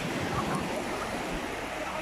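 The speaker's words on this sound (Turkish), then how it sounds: "Dalgalar derin geliyor alçak bile olsa ben korkarım." Sea waves wash onto a beach in a steady, broad roar of surf with wind noise against the microphone, close and fairly loud throughout.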